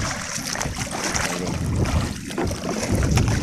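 Big sea waves wash around a small fishing boat off the coast of Barangay Malubago, Cataingan, Masbate, a loud steady rush of water and wind buffeting the microphone, with no voices.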